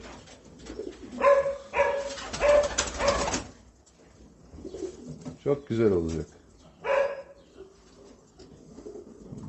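Pigeons on a farm coo in low, rolling calls, close by, heard between and under someone speaking Turkish.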